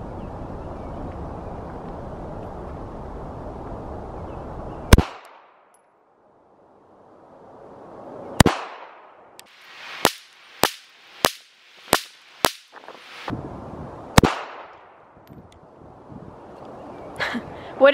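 A Walther CCP .380 pistol fired at a target: one sharp, loud report, a pause, then a rapid string of about eight crisp shots with brief gaps, over faint background hiss.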